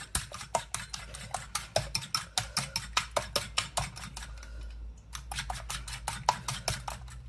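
A spoon stirs an eggy bread mixture with bacon in a bowl, a quick, steady run of close scraping clicks and taps, briefly pausing midway before resuming, with no voices.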